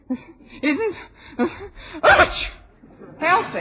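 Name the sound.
sneeze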